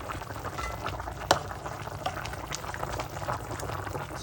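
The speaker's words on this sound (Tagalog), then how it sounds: "Yan, kumukulo-kulo na siya guys." Chicken simmering in Sprite in a pot, a steady bubbling boil with small pops and gurgles, close and moderately quiet, with no talking.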